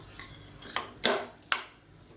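A spoon mixes urad dal chutney in a pan, giving three sharp metallic clinks about half a second apart against a quiet background with no talking.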